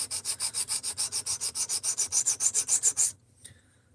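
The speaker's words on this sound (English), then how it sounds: "So we're on our 4th sharpening right now, and I'm just hogging material off." A D2 steel knife edge is drawn across a sharpening stone in about twenty quick, evenly spaced rasping strokes, close and crisp, then stops abruptly, leaving near silence with one faint tap.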